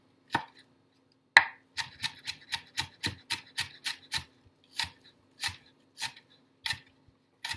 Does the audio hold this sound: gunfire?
no